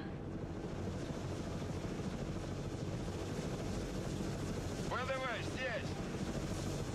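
An Mi-8 helicopter being unloaded in the Broken Arrow strategy video game, with a continuous rotor and engine drone filling the whole stretch and a short whooshing sweep near the end.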